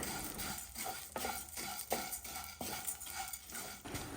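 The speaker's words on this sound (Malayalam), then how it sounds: "സേമിയ ജസ്റ്റ് നെയ്യിൽ അങ്ങോട്ടും ഇങ്ങോട്ടും ഒന്ന് ഫ്രൈ ചെയ്ത്" Vermicelli stir-fried in ghee for vermicelli upma, with a steady soft sizzle and repeated rhythmic scraping strokes of a spoon against the pan, close by and with no talking.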